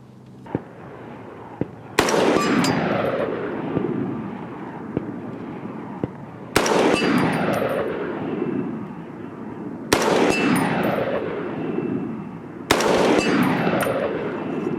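A Smith & Wesson M&P 10 rifle fires four loud, sharp gunshots outdoors, spaced a few seconds apart, each with a long, booming echo. Fainter clicks and handling noises come before the first shot.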